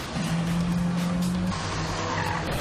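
A BMW slides sideways on a leaf-covered race track, giving a loud, close engine howl with tire squeal running through the whole short stretch.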